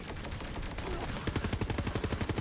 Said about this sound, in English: I'm not a big fan of this shotgun